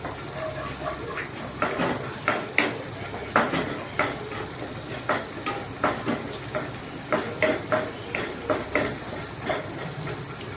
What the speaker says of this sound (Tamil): நெய் சேர்த்துட்டு அதில் முந்திரி திராட்சை உங்களுக்கு தேவையான அளவு நீங்கள் சேர்த்துக்கோங்க.